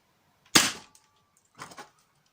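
A Nerf Knockout blaster fires a dart with one sharp, loud pop up close, followed a second later by a softer, brief mechanical rattle.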